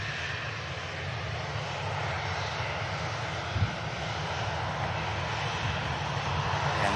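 Aircraft engine roaring steadily at Manchester Airport, a broad continuous rumble with a brief louder bump midway, heard without talk.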